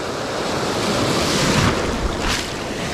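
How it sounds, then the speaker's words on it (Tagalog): Big ocean waves breaking on a reef, a loud continuous roar of surf with heavy wind buffeting the microphone and swells of crashing water rising and falling. "malaki yung gulong ng alon"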